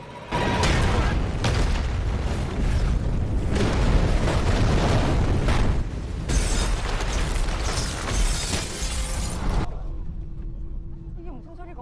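A nuclear power plant explodes in the Korean disaster film Pandora, heavy booming blasts and roaring, rumbling debris in long loud bursts, then a sudden cut to quiet with faint sound afterward.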